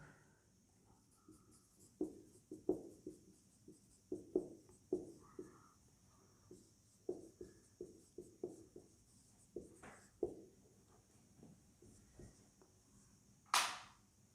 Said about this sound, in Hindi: चलो इसको लिख देता हूं।